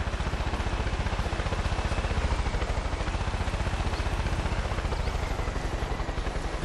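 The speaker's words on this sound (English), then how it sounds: "That is definitely a helicopter." Helicopter in the Far Cry 5 video game, a steady loud rotor thrum with rapid regular blade chop that holds constant and close throughout, with no talking.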